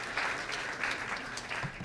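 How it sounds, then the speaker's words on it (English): Steady clapping rises from the audience at a civic event with the mayor at a museum, honoring council members, moderately quiet and continuous over a couple of seconds. "So let's give them all a big round of applause."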